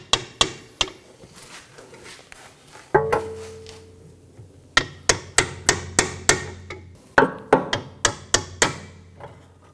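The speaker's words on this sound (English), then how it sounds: "I'm going to disengage it using a pry bar and hammer." Sharp metallic hammer taps on a pry bar freeing a retaining clip while replacing a rear ABS wheel speed sensor on a Nissan Maxima, quick bursts of strikes with short pauses between groups, close and fairly loud.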